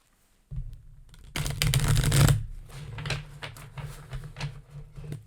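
Cards riffle and snap together in a burst of rapid fluttering clicks, followed by softer shuffling and tapping, close and fairly loud, with no talking.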